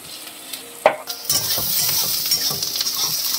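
Spice masala sizzles and fries in a pan for an egg curry. It opens with a sharp clink, then a spoon stirs it in repeated scraping strokes over a steady, close sizzle.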